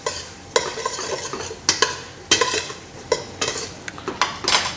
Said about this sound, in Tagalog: Then, haluin natin.